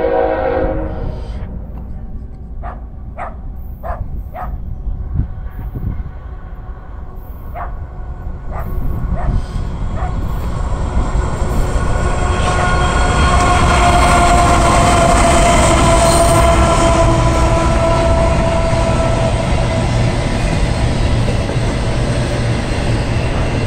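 A mixed freight train with autorack cars rolls past loud and close, a series of repeated horn blasts sounding first, then a rising, sustained rumble and clatter of wheels that fills the rest of the stretch.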